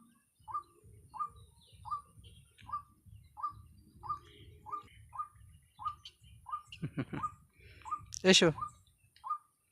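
A pet egret gives a steady run of short, evenly spaced calls near the microphone while a person talks to it, then several loud rustling bursts of wing flapping come close together near the end.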